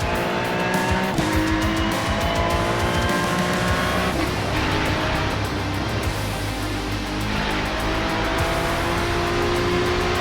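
Ferrari Challenge race cars from iRacing cornering at Laguna Seca's Corkscrew, engines roaring continuously and loudly with shifting pitch and tire noise as several cars run close together.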